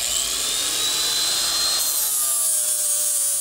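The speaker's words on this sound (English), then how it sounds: "be careful not to grind too much off or you'll weaken the weld" An angle grinder dresses down fresh welds on replacement rocker panels of a 1966 Chevy truck, a loud continuous high-pitched abrasive whine that shifts in pitch partway through as the disc bites into the steel, with no talking.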